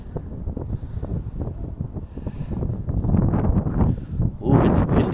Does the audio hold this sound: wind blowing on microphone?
yes